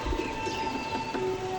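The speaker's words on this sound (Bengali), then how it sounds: "খুব মারাত্মক পায়রা," Pigeons kept as tournament fliers make soft low coos close by, mixed with a few brief chirps, over a faint steady background hum.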